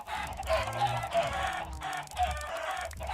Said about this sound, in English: Here are chickens, by the way.